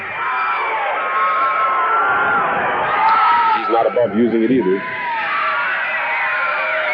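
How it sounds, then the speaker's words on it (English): A wrestling arena crowd roars loudly and without letup as Randy Savage fights, with the din swelling as a commentator talks over it. "This crowd is going wild."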